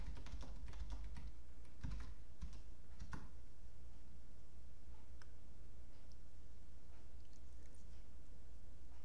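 Keys clatter on a computer keyboard as a ping command is typed, a quick burst of close, light clicks that trails off into quiet room hum.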